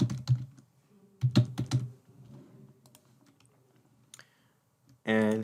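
Typing an email address on a computer keyboard: short clusters of crisp, close key clicks separated by quiet pauses, ending with a brief burst of noise.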